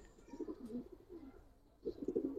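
Pigeons coo in soft, low rolling bursts, two clusters separated by a brief lull, fairly close and moderately quiet with no talk over them.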